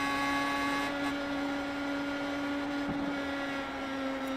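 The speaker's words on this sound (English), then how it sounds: "Listen to the engine noises going into turn number 1." Race car engine in the video game iRacing at Richmond Raceway, heading into turn 1 with barely any lifting, giving a steady high-pitched whine with several sustained tones and almost no variation.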